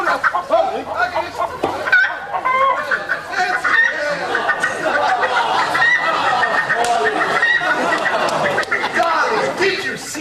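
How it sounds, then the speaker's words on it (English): A chicken squawks and clucks in agitation as it is chased and caught in a yard, with its calls mixed among continuous excited voices and shouting throughout. "did you see the way that I caught that chicken?"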